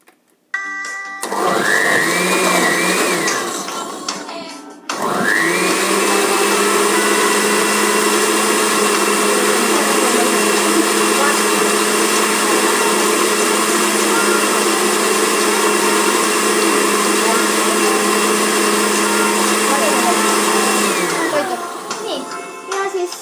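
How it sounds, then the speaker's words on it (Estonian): A countertop blender runs with its lid on, blending a smoothie made with milk, starting in a short burst, pausing, then whirring loudly and steadily for about sixteen seconds before winding down. "Ja kõige viimaseks peab hakkad siis seda blenderdama, et paned selle kaane peale ja nüüd... Blenderdada!"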